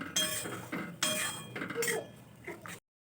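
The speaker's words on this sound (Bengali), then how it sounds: "এরপর এটাকে আমি খুব ভালোভাবে কষে নিচ্ছি।" Ground spices, including garam masala and cumin powder, being stirred and fried in a pan for a jackfruit curry, with a utensil scraping and clinking against the metal in several short bursts, close and fairly quiet.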